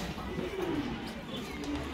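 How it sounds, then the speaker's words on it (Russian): Pigeons coo at a zoo on an autumn day, a soft low warble heard faintly amid background chatter and a voice speaking. "вон голуби твои любимые"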